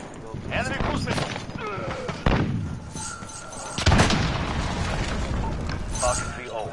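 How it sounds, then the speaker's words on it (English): Cruise missile strikes in a modern first-person shooter video game land as two heavy, booming blasts a second or so apart, over a busy bed of gunfire and game noise, with a voice talking through it. "Enemy cruise missile!"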